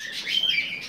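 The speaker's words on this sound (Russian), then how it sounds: "Здесь уже канарейки." A canary in an indoor aviary gives a brief, bright chirp with a thin whistled tone, close and fairly quiet, lasting under a second.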